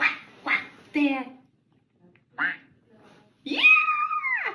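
A voice imitates a duck while singing Old MacDonald, giving a few short sung syllables, a pause, then a loud, drawn-out nasal quack.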